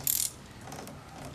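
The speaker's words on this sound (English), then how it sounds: "Now it's drawing, I can hear it drawing the wood together." A clamp ratchet clicks sharply in a quick burst of several ticks as it draws a glued wooden panorama frame together, followed by a faint creak and low room noise.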